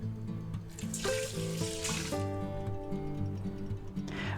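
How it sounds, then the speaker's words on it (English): One cup of beef stock is poured into an Instant Pot over ground beef and rice, producing a continuous filling gurgle with rising pitch as the pot fills, close and steady. "Now we just add 1 cup of beef stock, beef bouillon, whatever you have."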